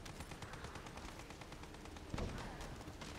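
Rapid video-game gunfire from The First Descendant rattles steadily throughout, a dense stream of shots with one heavier blast near the end, no talk over it.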